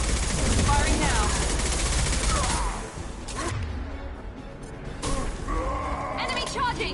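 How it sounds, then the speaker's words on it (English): Automatic gunfire crackles in the Mass Effect 2 video game, dense bursts at the start that fade into scattered shots and a few sharp impacts, with voices speaking over the combat. "Firing now."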